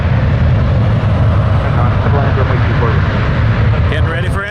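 An airliner taking off from runway 23 right at Toronto Pearson in calm wind, a loud, close, continuous engine roar that eases slightly toward the end as a faint whine rises.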